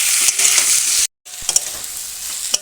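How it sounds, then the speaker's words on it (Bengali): Potatoes and onions fry with ground spices and ginger in a pan, giving a steady, loud sizzle with stirring scrapes and a brief silent break partway through. "বেশ খানিক্ষণ ভালো করে মশলার সঙ্গে আলু পেঁয়াজ কষিয়ে নিয়েছি দেখুন পেঁয়াজও গলে গেছে ভাজা ভাজা হয়ে গেছে"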